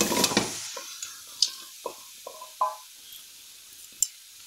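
Cooked tapioca tipped into a round cooking vessel for Idukki-style kappa biryani: a loud burst of sizzling at first, then several scattered scrapes and clinks against the pot fading into quiet.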